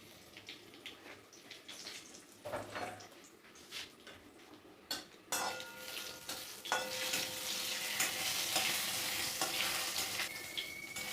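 Dry red chillies, whole cumin and bay leaf fry in a little oil in a kadai, a steady close sizzle that swells louder partway through, with a few stirring scrapes and utensil clinks.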